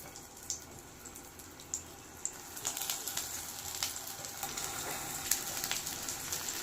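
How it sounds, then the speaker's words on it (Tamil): Chickpea cutlets frying in oil in a pan, a steady soft sizzle that builds in the second half, with scattered faint pops and spatters throughout and no voices. "இப்போது நம்ம ரெடி பண்ணி வச்சுருக்க சிக்பீ கட்லெட்டை நம்ம எண்ணெயில் சேர்த்துக்கலாம்."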